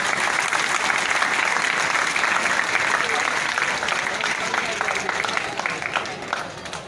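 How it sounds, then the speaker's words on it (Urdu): Audience applause at an Iqbal Day speech event in Pakistan, a steady, dense wash of many hands clapping that holds loud for about seven seconds and tapers slightly toward the end. "چھٹی پہ تو تالیاں بج رہی ہیں"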